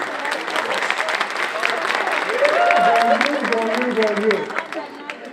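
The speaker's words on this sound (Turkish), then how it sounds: "alkış, alkış" A theatre audience at a Nevruz stage event breaks into sustained applause, dense clapping mixed with crowd murmur, while a voice carries over it midway before the clapping thins out.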